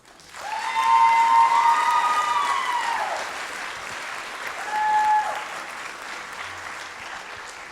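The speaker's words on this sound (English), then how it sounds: "Wow, that deserves a huge round of applause." A crowd at the Big Lake 2025 ambassador coronation breaks into loud applause with high cheers and whoops, swelling quickly, easing, then surging again with a shout before tapering off.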